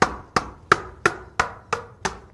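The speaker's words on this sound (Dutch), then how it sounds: "Vanaf buitenaf hoor je alleen maar getik." Drumsticks tapping the pads of an electronic drum kit, seven sharp, evenly spaced dry knocks close by with nothing else sounding.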